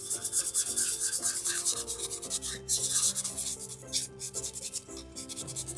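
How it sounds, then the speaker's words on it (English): Plastic being roughed up by hand with worn 220 grit sandpaper, a close, steady run of quick rhythmic scratchy strokes with no talking. "I think this is 220 grit sandpaper that I just have been using it for a while."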